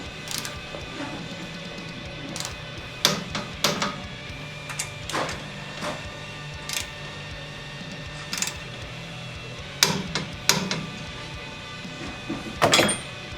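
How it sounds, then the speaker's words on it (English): A torque wrench tightens the two fork pinch bolts on a motorcycle during a fork shroud install, giving scattered sharp clicks and ratcheting taps spread across the span, close but moderate in level, with no talking. "Now we're going to go ahead and torque the 2 pinch bolts to the factory spec."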